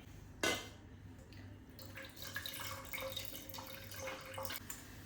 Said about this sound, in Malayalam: ശർക്കര ഇത് കുറച്ച് വെള്ളം ഒഴിച്ച് കൊടുക്കാമേ